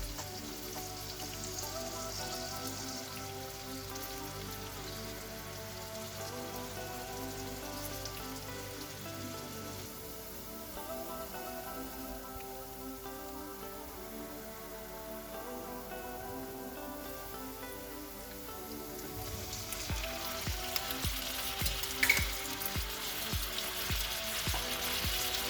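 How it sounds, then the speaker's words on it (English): Chopped onion frying in oil in a pan, a steady soft sizzle and crackle that continues throughout and grows slightly louder and busier toward the end. "the onion will fry until brown or transparent"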